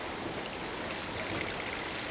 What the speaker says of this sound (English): I'm actually going to just water with the earth food watering can